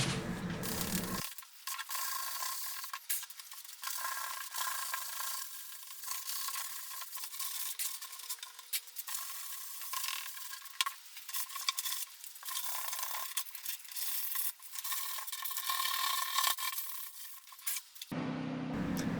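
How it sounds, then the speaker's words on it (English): Sandpaper wrapped around a sanding sponge rubs by hand over the corners of a wooden coffee table being refinished, giving a steady, close, dry scratching rasp in continuous back-and-forth strokes with no voices. "I grabbed a sanding sponge and then wrapped a piece of sandpaper around it and just did it all by hand"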